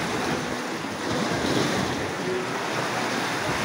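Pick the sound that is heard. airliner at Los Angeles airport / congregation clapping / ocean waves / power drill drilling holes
ocean waves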